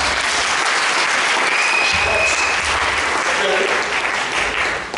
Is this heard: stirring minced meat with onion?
no